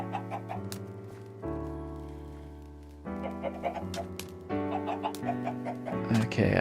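Chickens in the Minecraft video game clucking in short repeated bursts over steady, layered background music, fairly loud and close, with no one talking.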